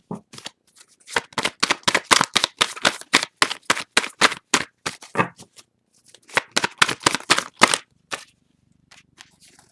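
Tarot cards shuffled by hand in quick bursts of crisp riffling flicks, two long runs separated by a short pause, close and moderately loud with no talking.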